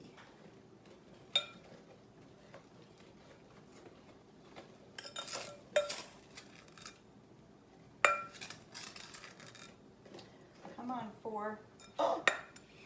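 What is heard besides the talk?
stirring peach jalapeño jam in a pot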